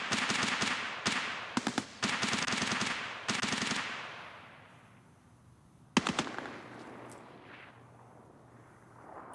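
Gunfire from the Escape From Tarkov video game: rapid bursts of automatic shots crackle for about four seconds, then a lull and one more sharp volley, loud and fairly close. No one speaks.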